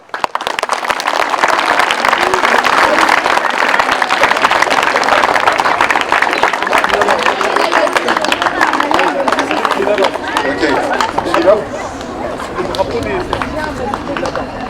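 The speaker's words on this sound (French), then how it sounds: "Ok, on peut les applaudir." Applause from a crowd gathered at a commemorative ceremony with school pupils honoring French forces and their allies, dense steady clapping that fades slightly near the end amid background chatter and murmuring.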